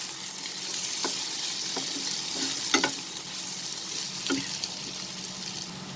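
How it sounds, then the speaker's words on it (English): Vegetables with green chilies and chili flakes sautéing in a pan for rice vermicelli noodles, giving a steady close sizzle broken by a few scattered spoon scrapes and taps. "Mix it and saute it for a minute."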